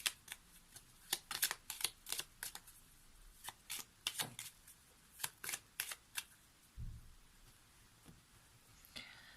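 Oracle cards shuffled for a reading, a quiet run of crisp riffling slaps and flutters in an irregular rhythm, close and alone with no talking.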